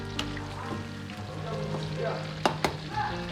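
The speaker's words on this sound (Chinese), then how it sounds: "起锅烧油，油温烧至6成热，保持中火下入鸡丁" Diced chicken for cumin chicken drops into a wok of oil heated to about sixty percent over medium heat, giving a steady, close sizzle with a few sharp clicks near the end.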